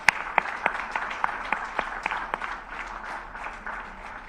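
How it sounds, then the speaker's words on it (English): Applause at a capital market conference, fairly faint and thin, with distinct individual claps standing out over a soft wash of clapping that tapers off after a few seconds. "thank them with a round of applause."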